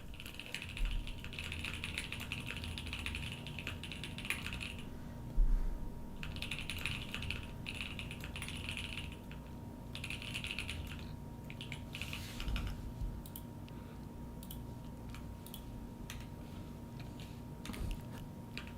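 Steady typing on a computer keyboard, with rapid key clicks coming in bursts separated by short pauses over a constant hum, close and clear with no talk.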